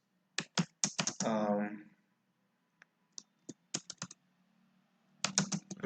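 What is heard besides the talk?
typing code on a computer keyboard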